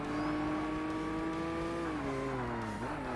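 A race car engine in Forza Motorsport holds a steady high whine, and its pitch eases down and then climbs again under braking and acceleration. It is continuous and close, with no speech.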